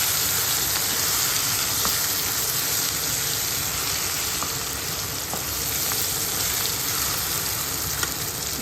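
Seasoning ingredients fry in hot oil for an amaranth-leaf and tomato chutney, making a constant, even hiss-like sizzle at close range, with no talking.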